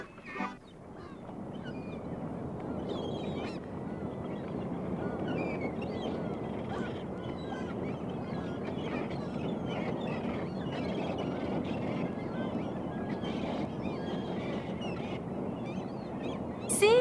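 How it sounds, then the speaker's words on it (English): Cartoon seagull calls, honking squawks scattered over a steady dense wash of background noise, moderately loud and continuing throughout, with a louder cry at the very end. "Seagulls! I have seen seagulls."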